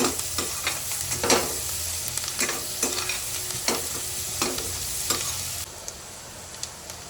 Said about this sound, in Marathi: शिमला मिरची मस्त आता त्याला शिजवून घेऊया.